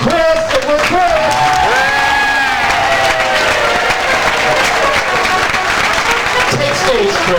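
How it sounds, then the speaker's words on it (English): A cruise ship audience bursts into loud, sustained applause and cheering for an entertainer taking a standing ovation, with whoops and voices mixed into the dense clapping throughout. "Standing ovation"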